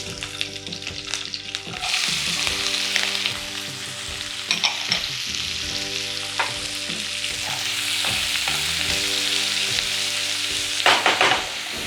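Onion fries in oil in a pan for a gongura prawn curry, a loud continuous sizzle with repeated spatula scrapes and clinks as it is stirred, close up and with no talking, over a faint steady tonal hum.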